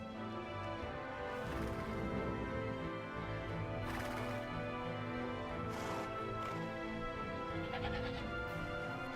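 Goats bleat repeatedly in the Age of Empires II: Definitive Edition video game, several loud overlapping calls over continuous game ambience.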